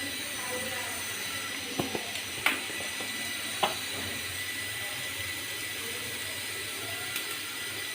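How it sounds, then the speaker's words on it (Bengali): Spiced potato chips, coated in turmeric and chili powder, fry in hot oil with a steady sizzling hiss and a few sharp pops and crackles scattered through. "এখন আমি এগুলো তেলে ভেজে দেব।"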